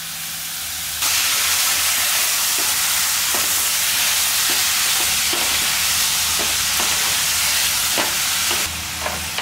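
Ridge gourd and chickpeas sautéing in a hot pan, a loud, close, steady sizzling hiss that kicks in abruptly, punctuated by regular knocks of a stirring spoon.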